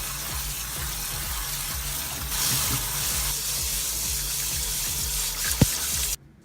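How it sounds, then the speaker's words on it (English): Soaked seeds being rinsed under a running kitchen tap, a steady wash of water pouring into a sink with low rhythmic thumps beneath, close and continuous, with a brief clunk near the end before the flow cuts off. "Most of these are now ready to get rinsed and begin the sprouting process."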